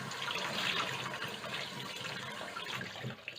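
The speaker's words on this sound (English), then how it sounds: "just run a little bit of water over the top" Water runs steadily from a tap over a block of rendered sheep tallow, a soft continuous splashing hiss that stays fairly quiet and even throughout.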